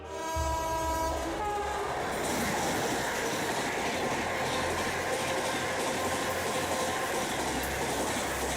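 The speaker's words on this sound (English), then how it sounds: "This cow completely ignores the piercing warning bell of the oncoming train." A train rolls past at close range with a horn blast at the start, its harmonic tones fading into a steady, loud roar and rattle of rail cars that fills the rest of the passage, with no voices.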